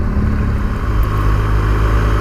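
A BMW R1200GS motorcycle engine at motorway speed, a loud, steady low drone with even harmonic hum and rushing wind, no voices.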